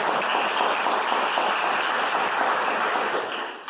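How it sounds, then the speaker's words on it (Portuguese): A congregation at a church service claps together in a dense, steady round of applause that continues evenly and tapers slightly near the end. "Dá uma salva de palmas."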